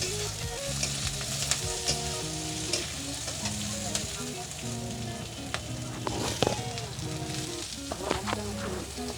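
Tomatoes fry in a pan for a Bengali shutki dried-fish curry, giving a steady close sizzle with occasional stirring scrapes and clinks and no talking.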